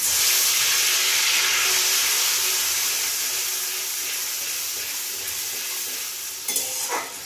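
A blended paste of onion, ginger, garlic and tomato sizzles loudly in hot oil in a pan for a pomfret kalia curry, a steady frying hiss that slowly eases, with brief stirring clatter near the end.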